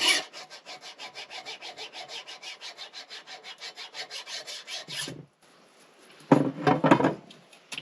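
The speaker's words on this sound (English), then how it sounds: "But then with hacksaws, often it's a slow grind to get through things." Hacksaw cutting through wood in a DIY tiny house build, a loud steady run of rhythmic back-and-forth rasping strokes, then a brief pause and a few heavier scraping strokes near the end.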